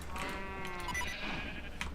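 Sheep bleating on an animal farm in the Minecraft Sky Factory video game, a wavering synthesized bleat followed by another short call, close and clear over a faint background.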